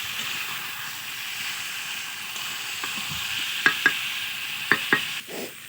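Potatoes and plantains frying in a spice masala give a steady sizzle, then a few sharp spoon clinks and scrapes from stirring near the end, with no voices.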